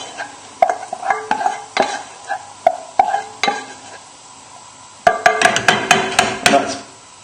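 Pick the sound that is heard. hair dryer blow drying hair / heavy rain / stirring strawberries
stirring strawberries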